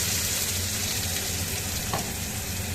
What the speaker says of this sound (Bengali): তারপরে দিয়ে দেবো পেঁয়াজ বাটা, রসুন বাটা, আদা বাটা